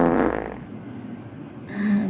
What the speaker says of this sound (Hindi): पाद दिया तो का हो गया पाद दिया तो?